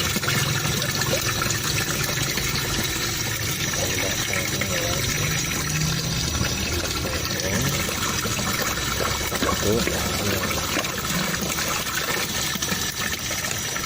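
Water pours steadily into a twin-tub washing machine with a constant rushing, churning wash. It holds at an even level for the whole span, and a voice talks faintly beneath it.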